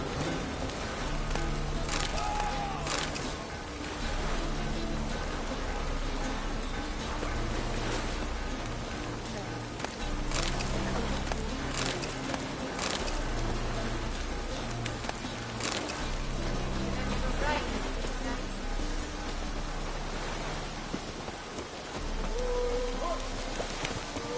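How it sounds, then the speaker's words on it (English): Steady rainfall in The Witcher video game, a soft continuous patter under background music, with occasional louder sharp impacts and a voice talking over the rain. "Rain like this would fetch a fortune in Zone."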